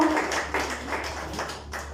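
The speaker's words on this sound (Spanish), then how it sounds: "Vamos a darle un fuerte aplauso a Dios ahí en su lugar" A church congregation applauding during a Spanish-language service, a dense, even patter of many hands over a steady low electrical hum in a reverberant hall.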